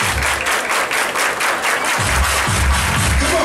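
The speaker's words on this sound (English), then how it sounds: "Everybody clap your hands." Party guests clap their hands together at a quinceañera in a Mesa, Arizona reception hall, a dense, steady wash of applause over booming low music, with bass thumps returning near the end.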